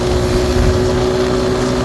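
A Mojo 200 motorcycle running near 130 at high speed, with loud, constant wind roar buffeting the microphone over a steady engine drone and no speech.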